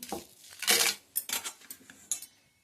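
Clinking and clattering of utensils against a metal mixer jar, a few bright knocks and rattles as dried chillies and other ingredients are dropped in, close by with no talk.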